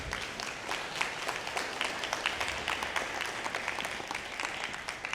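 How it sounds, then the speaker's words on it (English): Guests at a business mixer celebrating Black entrepreneurship give a round of applause, a sustained patter of many hands with distinct individual claps, moderately loud and continuous throughout. "please give them a round of applause"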